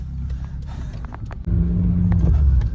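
A car's engine rumbles low from inside the cabin, with light clicks and jangles at first, then a steadier, stronger engine drone as it pulls away and keeps driving.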